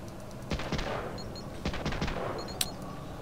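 Gunfire in Medal of Honor: Allied Assault, several sharp shots in irregular bursts over a low background, some crackling in quick succession, with no talk.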